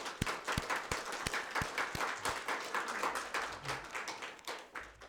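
Congregation clapping in welcome at a Sunday church service as a pastor comes up to the front. Uneven hand claps sound from nearby over about five seconds, sharp single claps at first, then thickening into a light, sparse round.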